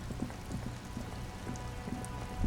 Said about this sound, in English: Rain drips from the eaves and floods the gutters, washing the filth away